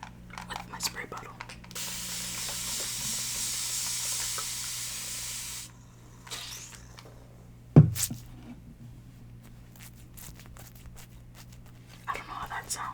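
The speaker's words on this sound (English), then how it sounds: "I'm going to wet my beauty blender with my spray bottle." Spray bottle misting water onto a beauty blender sponge, one long steady hiss of several seconds up close, followed by a few soft handling clicks and quiet whispering.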